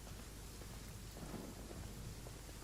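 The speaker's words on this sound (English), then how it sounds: "Why is it still raining?" Steady rain with rumbling thunder from a storm in the video game Genshin Impact, a dense continuous wash of falling drops and low rolling rumbles with no voices.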